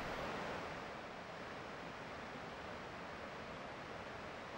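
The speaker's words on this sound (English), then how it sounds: "This model mimics the flow of water over the damaged spillway of the tallest dam in the United" Water rushing over a giant scale model of the damaged concrete spillway at Oroville Dam, a steady, loud broadband roar of turbulent flow with no pauses and no voices.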